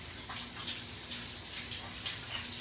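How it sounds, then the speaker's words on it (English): Tap water runs steadily in a home kitchen while hands are washed, a soft, even hiss of flowing water heard at low level throughout. "I'm going to wash my hands."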